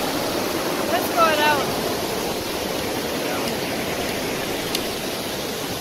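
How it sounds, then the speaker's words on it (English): A waterfall swollen by rain roars steadily as a broad, unbroken rush of water, loud and close, with a brief faint higher sound near the start. "these waterfalls is just beautiful"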